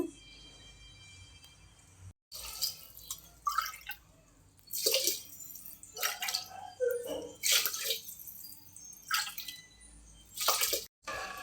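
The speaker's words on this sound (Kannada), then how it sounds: "ಈಗ ಎಂಟು ಕಪ್ ನೀರು ಹಾಕಿ ಇಡೋಣ" Water pours in several separate bursts, splashing into a pot of rice, with short pauses between each pour.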